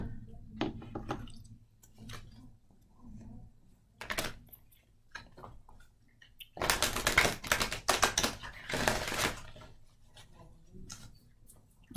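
Cards shuffled by hand for on-the-spot readings: scattered soft clicks and taps, then a rapid riffling burst of flicking cards partway through, with no talk.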